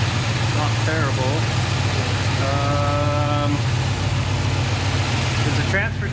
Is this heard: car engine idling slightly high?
yes